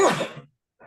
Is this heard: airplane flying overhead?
no